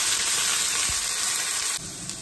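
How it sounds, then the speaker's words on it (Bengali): Ginger, cumin and coriander paste sizzling loudly in hot oil in a pan, a dense close hiss that drops abruptly partway through to a quieter sizzle. "হিঙের পরে দেব আদা জিরে আর ধনে বাটা"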